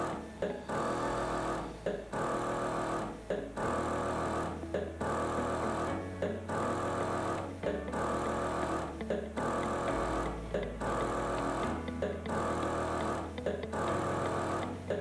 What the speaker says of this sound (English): If we activate the air mode and start, the machine sounds like this.